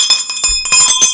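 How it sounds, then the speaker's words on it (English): Notification bell sound effect: a short series of bright, ringing metallic chimes with sustained high tones, loud and close, playing alone with no talk. "hit the notification bell so that you're warned that we're coming at you"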